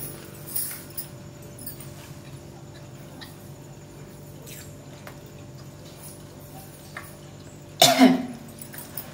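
A single short cough rings out near the end, after a long stretch of quiet room tone with a couple of soft clicks.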